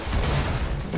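Artillery fire in the World War 1 trench warfare game Verdun, a dense low rumble of booms and blasts that keeps up steadily through the whole second, loud and close.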